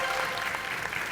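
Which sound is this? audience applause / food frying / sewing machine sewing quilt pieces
audience applause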